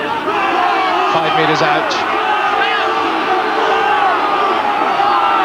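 A rugby crowd at Gloucester versus Harlequins in 1990 roars and cheers loudly and continuously at a stadium as the home side drives forward, with a commentator speaking over the noise.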